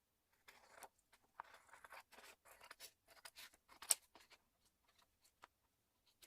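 Paper being trimmed for a disc album structure in A4 and A5 sizes, heard as a string of quiet, irregular scissor snips and crisp cuts spread across the clip with no talking.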